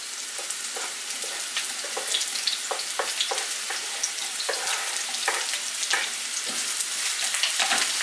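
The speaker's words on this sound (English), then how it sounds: "So I'm gonna fry the onion first and the ginger." Red onion and ginger fry in a pan with a steady, bright sizzle and crackle, broken by occasional clicks of stirring; no one speaks.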